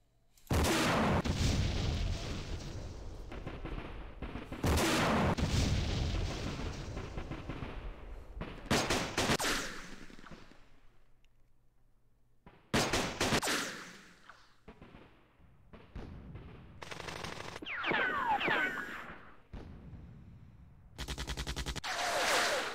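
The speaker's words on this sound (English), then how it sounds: "that's shooting from above" Gunfire bursts, machine-gun chatter and booming artillery from the Vietnam War strategy game Campaign Series Vietnam, fighting around hills and an LZ position, come in loud dense clusters separated by brief quieter gaps.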